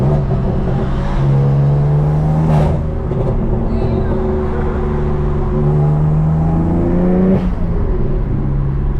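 A BMW M3 pulls hard on a highway, its intake and engine roaring loud and close in a dense, steady drone whose pitch climbs through two rising rev sweeps, with a voice briefly audible over it.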